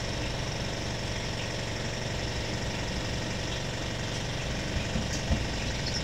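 A 7 kg manual twin-tub washing machine spins a load of laundry with a steady motorized whir and hum, close and continuous with no talking.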